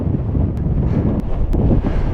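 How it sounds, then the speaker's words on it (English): Strong wind in the Chilean Andes of the Atacama roars and buffets the microphone in a steady, loud rumble, with a few brief sharp gusts and no voices. "It is windy."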